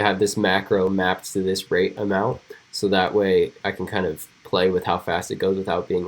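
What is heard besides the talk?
None of the usual background noises is heard.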